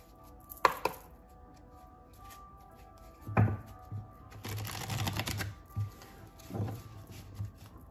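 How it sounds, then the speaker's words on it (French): Portes des chakras oracle cards being shuffled by hand, irregular close bursts of riffling and sliding card noise with soft taps and thumps between them, no voice. "on va brasser ensemble et vous allez voir que les cartes glissent très bien"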